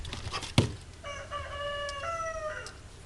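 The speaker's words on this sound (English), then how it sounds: "there goes the roosters again" A rooster crows once, a drawn-out cock-a-doodle-doo at moderate distance, preceded by a sharp knock and soft background noise.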